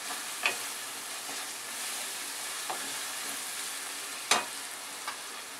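Tomatoes fry down in a pan for paneer bhurji, giving a soft, steady sizzle with a few sharp clicks and spoon taps scattered through, close and fairly quiet with no voices.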